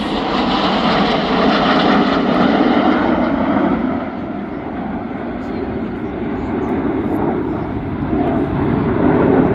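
RAF Red Arrows jets roll outward in a flying display manoeuvre at an air festival, producing a loud, sustained jet engine roar that dips briefly midway and then swells again, with a commentator's voice faintly under it.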